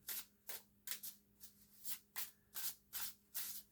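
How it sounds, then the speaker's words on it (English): Tarot cards being shuffled by hand, a soft, close papery riffle repeated in about eight quick regular bursts with brief pauses between, quiet and with no voices. "we make a good shuffle here."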